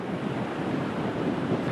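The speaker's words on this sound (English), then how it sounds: "Yes, a bit of a breeze out here." Wind blowing on the coast at Key West on a breezy afternoon, a steady broadband rush with surf-like roar and microphone buffeting, continuous and fairly loud with no voices.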